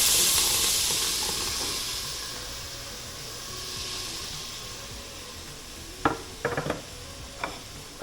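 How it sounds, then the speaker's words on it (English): Sausage frying in a pan with celery, a steady broad sizzle and hiss that slowly fades, followed near the end by a few sharp clatters of stirring against the pan. "let that sausage fry up for a few minutes"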